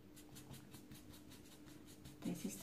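A pen scratching quietly across paper while grass blades are drawn for a nursery arts-and-crafts garden picture, with soft repeated strokes in a steady rhythm, followed by a few louder taps near the end.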